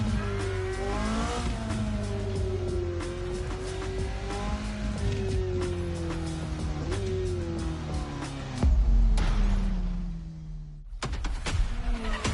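Racing-game car engine driving toward a museum building in The Crew Motorfest, with a steady revving tone and rising and falling gear shifts, a brief tire squeal, and a louder burst near the end.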